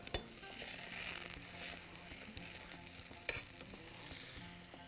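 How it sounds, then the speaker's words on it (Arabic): Butter melting and sizzling in a hot frying pan: a close, steady crackling hiss that runs throughout, with two sharp utensil clinks, one near the start and one midway, and no talking. "طاسه تقريبا سخنت. انا عايزه احط زبده."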